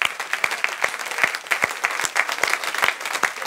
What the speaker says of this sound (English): Can we give one more hand clap to the parents?